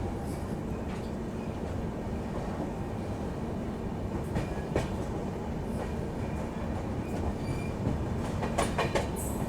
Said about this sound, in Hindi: ये सामने आ रही है train number 13152 Jammu Tawi Kolkata express